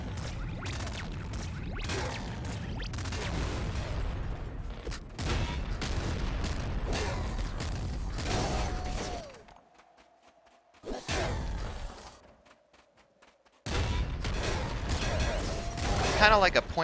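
Laser cannon firing in the video game Nuclear Throne, dense bursts of rapid electronic blasts and whooshes in long volleys broken by short quiet gaps, with a player talking over it.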